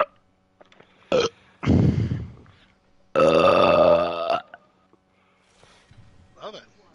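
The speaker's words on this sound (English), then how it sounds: "I need to burp again." Several loud burps from a person during an Apex Legends gaming session, including one long drawn-out belch, with short gaps and faint background game sounds.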